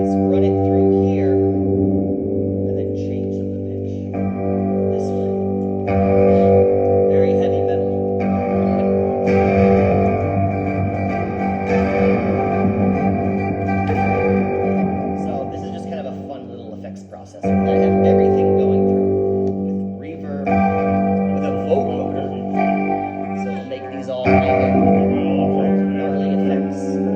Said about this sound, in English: I'm running every single thing through a vocoder, auto harmonizer, and reverb machine